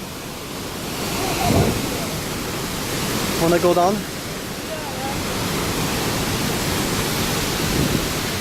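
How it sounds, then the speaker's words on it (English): Pailón del Diablo waterfall roars as a loud, constant broadband rush along the Ruta de las Cascadas, with a person briefly speaking over it. "the strongest waterfall I ever seen."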